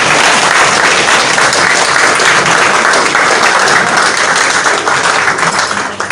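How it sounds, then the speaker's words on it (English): Sustained, loud applause from a large audience fills a handing-over ceremony of donated medical items, dense and steady throughout before tapering slightly at the very end. "Better rounds of applause,"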